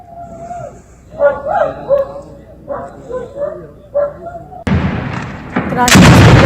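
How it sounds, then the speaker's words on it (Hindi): Dogs howl and whimper in long, wavering cries over distant background noise near an ongoing armed encounter outside Srinagar, then a loud, rough burst of gunfire cuts in near the end. "कुत्ते भी रो रहे हैं।"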